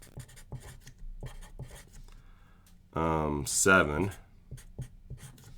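Pen or marker writing during a chemistry lesson on naming manganese oxide: a run of quick, light scratchy strokes close by, broken briefly by a short spoken word in the middle.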